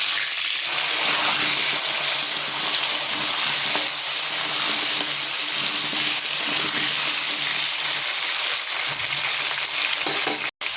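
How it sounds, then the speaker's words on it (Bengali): Large chunks of papaya and potato fry loudly in hot oil in a pan, a steady close sizzle with occasional stirring. "ভালো করে ভাজতে হবে"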